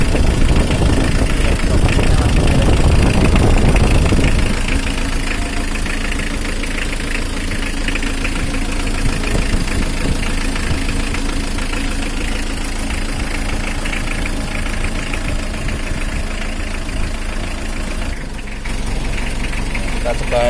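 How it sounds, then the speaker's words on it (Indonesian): Diesel engine of a Mitsubishi L300 pickup idling with a steady low rumble and slight vibration, fairly close, with a louder burst of engine noise at the start and a voice talking over it. "Ini ada sedikit getaran, itu sesuatu yang wajar di mesin diesel ya."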